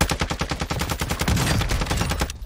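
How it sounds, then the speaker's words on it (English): Rapid automatic gunfire from a Warzone 2 firefight, a dense rattling burst of loud shots that runs for about two seconds and then cuts off abruptly. "And now he's shooting at me."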